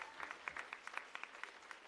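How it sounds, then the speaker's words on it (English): An audience at a Bharatanatyam arangetram dance performance claps in a short, faint burst of applause. "Aditi deserves a huge round of applause"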